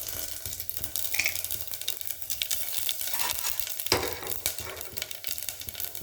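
Mustard seeds tempering in hot ghee and oil on the stove, a dense continuous crackling sizzle with scattered pops and a few stirring scrapes, close and steady with no voices.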